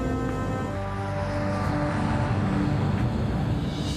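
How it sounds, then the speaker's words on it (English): Swissair Flight 111 airliner taking off, a loud continuous roar of jet engines at full power with a steady droning hum, no talk. "Swiss Air Flight 111 lifts off the runway and makes her way northeast towards the open Atlantic."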